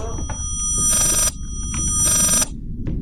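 Telephone ringing inside the Layers of Fear video game, two loud repeated rings with a metallic bell tone separated by short pauses, over a low rumbling ambient background.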